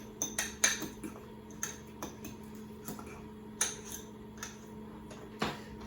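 A spoon clinks against a bowl as deviled egg filling is stirred with celery salt, giving sparse, sharp metallic taps at an uneven pace over a quiet background.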